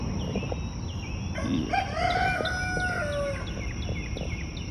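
A rooster crows loudly in a long rising-then-falling call with clucks and other fowl calls around it in an outdoor farmyard, and a single brief word is spoken.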